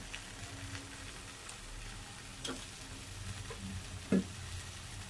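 Capsicum and egg curry cooking in a pan, a faint low sizzle running throughout with soft stirring and a single sharper knock of a spoon near the end, no voices.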